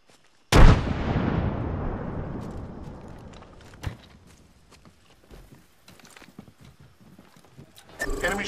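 A frag grenade in the video game Apex Legends detonates with a sudden loud blast that rumbles and fades over a few seconds, followed by scattered distant gunshots and another burst of gunfire at the end.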